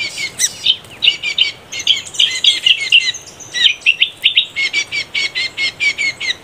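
Rapid, high-pitched bird chirps in quick repeated bursts, close and loud, with a faint background hiss.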